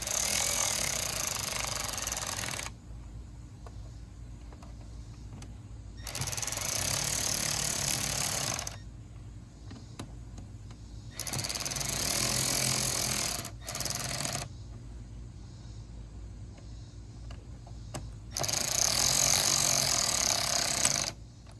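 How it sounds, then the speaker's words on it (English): A power screwdriver drives the screws on a Linkswell radio in several separate whirring bursts of about three seconds each, close and steady, with quiet pauses between them. "Now I'm gonna go around and tighten them up."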